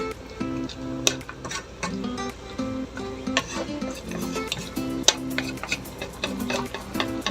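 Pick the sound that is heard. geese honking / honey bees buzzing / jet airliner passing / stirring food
stirring food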